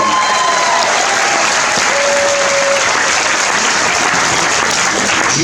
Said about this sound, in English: big round of applause for our judges